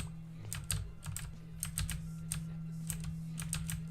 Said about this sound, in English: I hope you guys aren't too horribly annoyed by my mechanical keyboard, because it's quite loud